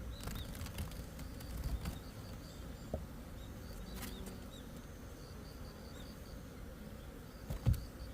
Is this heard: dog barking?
no